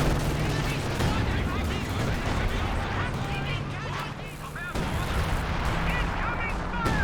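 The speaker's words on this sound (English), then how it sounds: "Howitzers ripping in now as well." Howitzers fire in a Company of Heroes 2 multiplayer battle, with heavy booming blasts and crackling gunfire layered in a dense, continuous barrage and a voice faintly underneath.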